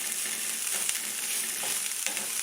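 Sausage fries in a pan for a brunch of Mexican eggs and sausage, giving a dense, even sizzle close up that runs without a break, with faint clicks of stirring in it.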